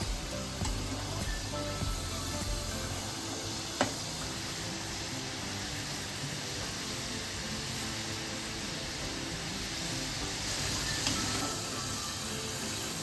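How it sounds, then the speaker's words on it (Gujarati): Potato chips for homemade French fries deep frying in oil over a full gas flame, a steady, dense sizzle and bubbling hiss that carries on evenly, with one faint clink partway through and no voices. "આ ચિપ્સને તરાતા થોડી વાર લાગશે, 5 મિનિટ તો મિનિમમ થશે જ તે તરાતાને"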